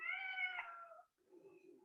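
A house cat gives a long, loud, wavering meow up close, then trails off into a softer, rougher cry after a brief pause.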